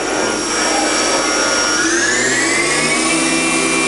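A Hartford LG-800 vertical machining center from 2015 with its spindle winding up toward 10,000 rpm, a loud steady whine that climbs smoothly in pitch and holds at a high, continuous pitch.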